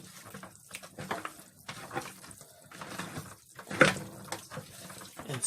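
Tap water running in a kitchen sink while chicken meat is washed with turmeric, a faint, uneven splashing trickle with soft clatters and one sharper splash partway through.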